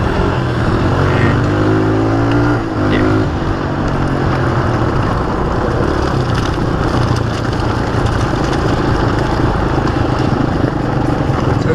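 A Honda CRF dirt bike churns through mud, its engine a steady, loud, unbroken roar with no pauses across the whole stretch.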